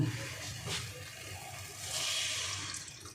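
Boiled milk poured into a wok for a mango and Gobindobhog rice kheer, a faint soft liquid trickle with quiet splashing swells heard close and alone.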